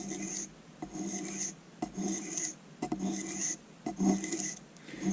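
A paring knife is drawn across a sharpening stone in a series of light, rasping strokes, about five evenly spaced passes heard up close with nothing else.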